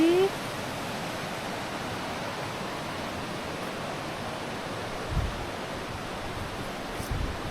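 A river stream flows near Dudhsagar waterfall during the monsoon, giving a steady, fairly faint rushing wash of water throughout, with a couple of soft bumps.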